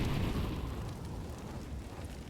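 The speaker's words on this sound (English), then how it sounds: "Bolts with a nade, this could do a lot of damage" A grenade detonates in Counter-Strike on the Dust 2 map during a competitive match, a loud, sustained low rumbling blast that fills the whole moment with dense, broadband roar and no clear talk over it.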